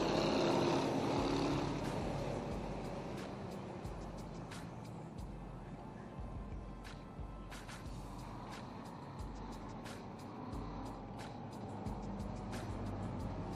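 Eight-cylinder stock cars racing around a dirt oval during a late-laps A-Main feature, a steady broad engine roar from the pack, louder at first, then sustained, with faint announcer speech mixed in.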